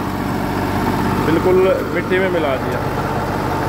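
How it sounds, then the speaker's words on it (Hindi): A tractor 403 pulls an 8-foot rotavator through a field. Its engine holds a steady, loud drone throughout, under someone talking in Hindi. "ये पीछे 8 फुटा रोटावेटर है और ये सामने ट्रैक्टर है 403"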